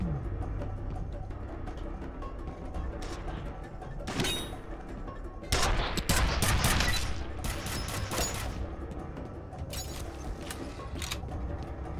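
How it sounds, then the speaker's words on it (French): Video game gunfire and explosions: bursts of rapid shots crackle in clusters around the middle and near the end, over a steady mechanical background hum, with no talk. "Le son des tirs et des explosions est un peu trop ténu."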